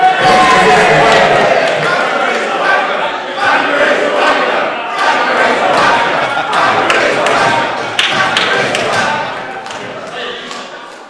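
A wrestling crowd at a show in Great Yarmouth cheers and shouts loudly, with rhythmic stomping or clapping thuds rising and falling throughout, and an announcer's voice under the noise.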